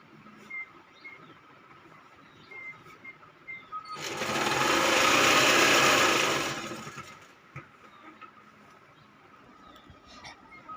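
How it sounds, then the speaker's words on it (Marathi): Sewing machine running a seam along the long side of a quilt pieced from eight old saris, its steady whirring motor swelling in for about three seconds mid-clip, with faint background sounds before and after. "आता मी उभ्या साईडला टीप मारायला चालू करतो"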